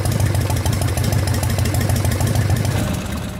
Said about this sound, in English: With the engine fully warmed up and idling